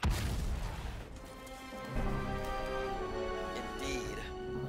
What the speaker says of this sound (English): Indeed. A satisfactory explosion.